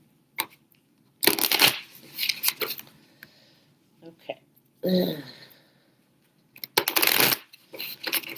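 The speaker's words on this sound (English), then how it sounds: "so let's do a couple shuffles" A deck of tarot cards is shuffled by hand in several loud, close bursts of riffling and slapping cards, with quiet pauses in between and a brief spoken word in the middle.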